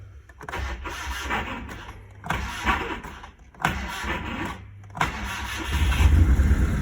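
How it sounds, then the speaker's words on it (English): A pickup truck engine, just serviced, cranks in several repeated bursts before catching and settling into a rough, loud idle. "let's turn the key and see if this thing starts"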